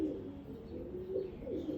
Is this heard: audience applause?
no